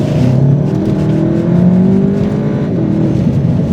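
A Volkswagen Golf GTi Clubsport hot hatch engine revs loudly and close, a sustained throaty drone with tones that climb and dip across a few seconds, heard alone without speech.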